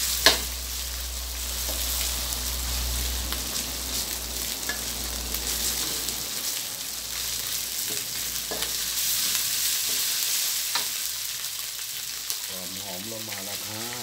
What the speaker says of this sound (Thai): ขอพริกแกงกับกระเทียมให้หอมเลยนะครับ